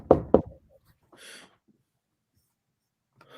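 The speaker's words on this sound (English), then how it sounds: "Whence is that knocking?" Two sharp knocks on a door during a stage play, loud and close together at the start, followed by a faint rustle and then near silence, with no voices.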